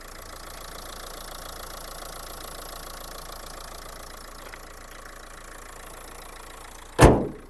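Renault Grand Scenic 1.5 dCi diesel engine idling at a steady, even rumble close by, with no talk, ending in a sharp brief click.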